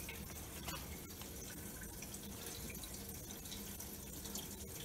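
Gasoline pouring from a 5-gallon can into the tank of a 1988 Chevy R35 dually pickup, a steady liquid trickle and splash running continuously throughout without pause.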